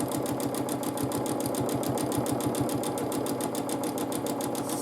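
A sewing machine stitches steadily while quilting a quilt, its needle hammering in a fast, even rhythm at close range, with a constant motor hum underneath and no pauses.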